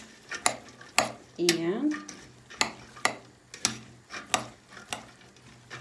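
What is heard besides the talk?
mixing Russian Olivier salad with sausages in a bowl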